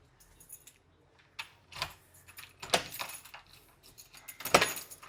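House keys jangle and clink in a few separate bursts as they are handed over at a luxury gated-community bungalow, the metallic rattles close and fairly quiet against a still room.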